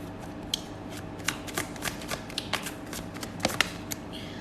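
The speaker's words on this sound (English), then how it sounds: "But I'm going to shuffle there again for Cancer." A tarot card deck is shuffled in a quick, steady run of crisp riffling card flicks, close and fairly loud against a quiet background, with no voices.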